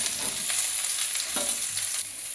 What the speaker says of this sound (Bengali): তেল গরম হয়ে গেছে, এবার আমি শুকনো লঙ্কা আর 1 চামচ 5 ফোড়ন দিয়ে দেবো। এবার সবজিগুলো আমি সব তুলে দেবো।